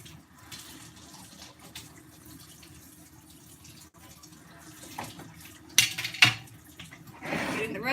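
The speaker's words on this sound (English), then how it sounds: "Rinse this off." Water from a kitchen tap runs over a plate and other dishes in a sink, with clattering of dishes and a brief knock partway through, then a louder, steady stream near the end.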